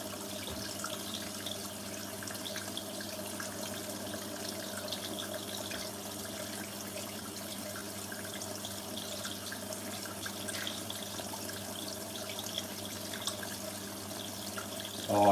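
Hoover SIX AAA Whisper 1600 washing machine filling with water, a steady close hiss of running water into the drum with faint dripping, continuous and even throughout with no talk.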